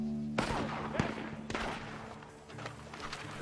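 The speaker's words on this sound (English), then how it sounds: "Gunshots are coming from that barn!" Gunshots in Red Dead Redemption II from a shootout at a barn: a few sharp cracks spaced about half a second apart, over low game music and a little background chatter.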